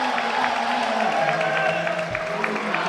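Crowd at a professional table tennis match cheering and roaring steadily under a commentator's voice, a dense, continuous wash of noise close and loud.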